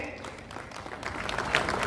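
An audience at an Azadi ka Amrit Mahotsav event at Lalit Ashoka claps for the guests, soft scattered applause that swells toward the end, with a voice speaking over it.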